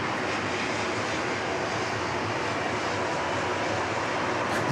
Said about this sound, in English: just as we watch the conga line of aircraft just heading south down to runway 34 right and 34 left